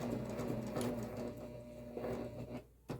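Sewing machine stitching a box pattern across a messenger bag strap, a steady close whirring run of stitches that stops abruptly near the end.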